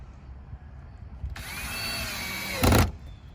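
A cordless drill whines up in a short burst, followed by a brief louder grinding spurt before stopping, close by, while fitting a front splitter to a Ford Mustang GT.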